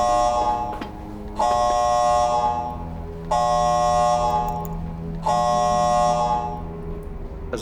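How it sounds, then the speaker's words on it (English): A major incident alarm in an indoor setting sounds in three long, loud, harsh buzzing blasts, each lasting about two seconds, separated by short gaps, with a steady low hum underneath throughout. "the major incident alarm has sounded"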